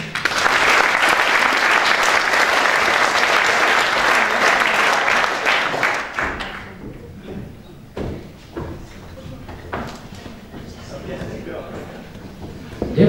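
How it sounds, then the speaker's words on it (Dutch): Audience applause at a local sports awards ceremony, dense loud clapping for about six seconds that then fades into scattered claps, thuds and murmuring voices in the hall. "Heeft ze nog weer een weergaloos applaus."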